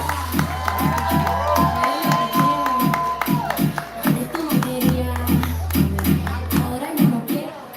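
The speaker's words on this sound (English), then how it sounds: "Start clapping. Start building noise for this beautiful, belt buckle, brown man, Reyes." A live poetry-night audience cheers, whoops and claps for the next poet, steady crowd noise with a low rhythmic music beat underneath, close and loud throughout.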